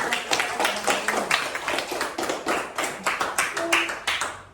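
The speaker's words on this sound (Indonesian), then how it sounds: "Tepuk tangan dulu untuk kita semua karena pembelajaran kita." A classroom of students claps hands in a rapid, roughly rhythmic patter, nearby and lively, with faint voices mixed in beneath the clapping.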